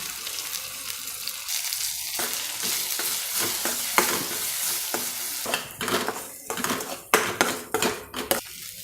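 Ground masala sizzles in a hot pan with onion and garlic for a ray fish curry, with the frying hiss broken by sharp scraping and clinking strokes of a spoon stirring against the metal, growing more frequent toward the end.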